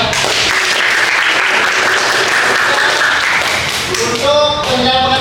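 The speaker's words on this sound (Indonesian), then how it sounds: "Tepuk tangan kita semua ya." An audience in a classroom teaching session breaks into applause, a dense wash of clapping that fills most of the moment before a voice and a musical tone take over at the end.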